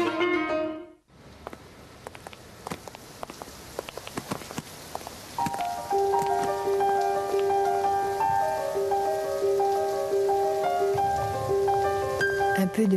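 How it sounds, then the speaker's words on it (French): Rain patters and drips in scattered drops, then a steady shower continues beneath a sustained musical tone. "Un peu de pluie, parapluie, trop de pluie."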